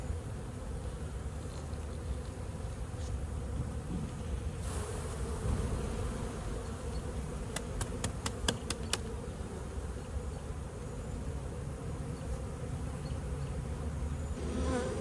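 Honeybees hum steadily around the hole of a cheap bucket trap as they fan at the entrance, a dense, close buzzing swarm that holds throughout with a few sharp clicks partway through.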